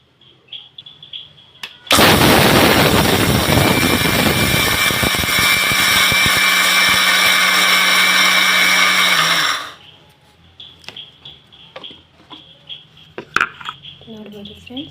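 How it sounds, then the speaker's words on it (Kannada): A kitchen mixie jar, holding only a small amount, grinds into a coarse rava-like powder for Kundapura-style pinde. It gives a loud, steady whirring roar for about eight seconds, then stops, and quiet talk follows. "ಇದೀಗ ಮಿಕ್ಸಿ ಜಾರಿಗೆ ಹಾಕ್ಕೊಳ್ತಾ ಇದ್ದೀನಿ. ರವೆ ಟೈಪಲ್ಲಿ ಪೌಡ್ರ್ ಮಾಡ್ಕೋಬೇಕು."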